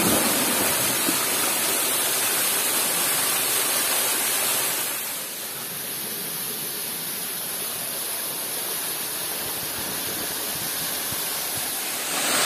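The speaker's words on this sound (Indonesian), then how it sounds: "Nah, ini kita sudah di air terjun Ramuan." The Ramuan waterfall at Way Bernung pours with a loud, close, unbroken rush of water that dips slightly midway and then holds steady, with no voices.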